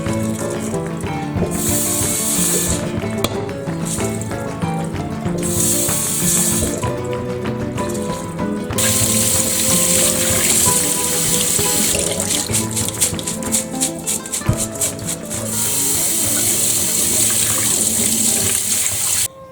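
Oats rinsed in a metal strainer under a running kitchen tap, a loud steady gush of water with bursts of splashing and rattling grain over about twenty seconds, no voices.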